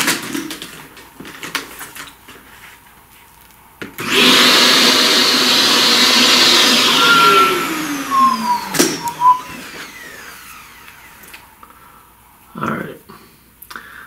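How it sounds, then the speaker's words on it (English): A vacuum cleaner runs over a pastel flower drawing, a loud steady whine that starts abruptly and holds for several seconds before dropping away, with scraping and handling noises around it. "let's vacuum that."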